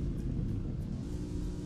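A low, steady engine rumble with a slightly synthetic, looping quality: a glitched Zenova ST1 car idling just after startup in Roblox Southwest Florida Roleplay.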